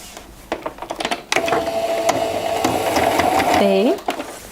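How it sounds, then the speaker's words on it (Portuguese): A sewing machine stitches a bag strap in short, loud mechanical whirring runs, with a pitch rising as it slows at the end, preceded by a few clicks and handling knocks. "Eu vou passar uma costura aqui para poder prender."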